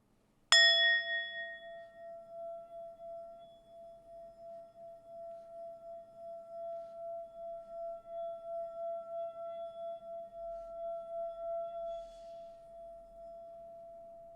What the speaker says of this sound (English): I've got a little gong, and we haven't gonged in a while on this show, so I'm gonna gong.